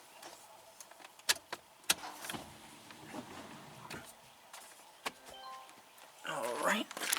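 A car key is turned to the on position, giving a few sharp clicks and a jangle of keys in a quiet cabin, followed by a rising whir near the end.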